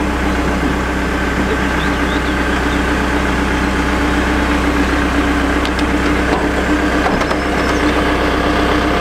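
Heavy diesel engine of a farm machine idling steadily with a low rumble and mechanical whine from its large hydraulic pump, a constant drone throughout with a few faint clanks.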